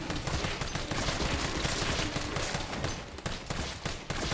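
Sustained rapid gunfire in Resident Evil 3 Remake, dense, loud and continuous bursts with no pauses or talk.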